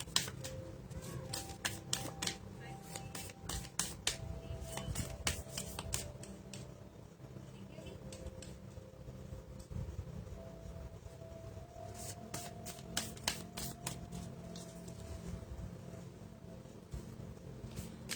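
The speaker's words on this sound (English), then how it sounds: "Just shuffling the cards for anybody who wants a card today" Soft, quick riffling and light card snaps in irregular bursts, close and quiet, with low background hum and no talking.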